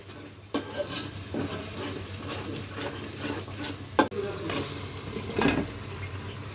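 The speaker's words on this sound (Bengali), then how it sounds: "রোস্টের মশলাটা কষিয়ে নিচ্ছি" Roast masala spices stirred and frying in a pan, a soft steady sizzle with scraping spoon strokes and a couple of sharper clinks, a voice speaking over it.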